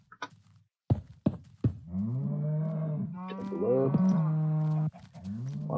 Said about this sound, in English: A lot of cows over here.